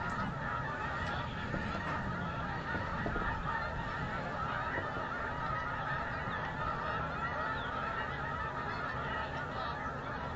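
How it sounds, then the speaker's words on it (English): A large flock of birds near a rocket launch site honks as it takes off together, making a dense, continuous chorus of overlapping calls at a steady, fairly loud level. "all those birds took off at the same time, and you could definitely hear them"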